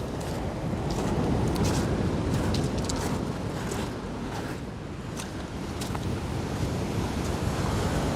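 Waves rolling onto the shore at Rosemarkie Beach on the Scottish coast, a continuous loud surf wash with wind buffeting the microphone, no voices.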